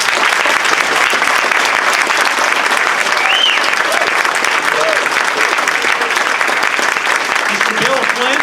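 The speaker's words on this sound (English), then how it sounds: "Ladies and gentlemen, please give a round of applause to Dr." Sustained, dense applause from an audience at a 2014 senatorial candidate forum, with a few voices cheering over the steady clapping.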